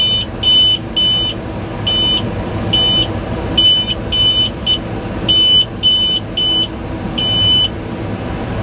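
Electronic alarm on a farm planter during bean planting, a repeating series of sharp high beeps in irregular bursts over steady tractor engine rumble inside the cab.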